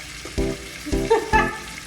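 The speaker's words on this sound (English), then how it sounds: "let's let them pan sear" Lamb chops sizzle as they sear in a hot skillet, with several bursts of louder crackling and spattering as pieces are moved or turned.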